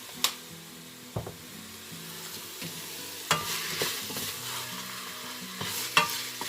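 Meat fries in a pan with a steady, close sizzle, broken by several sharp scraping knocks as it is stirred, with no talk over it.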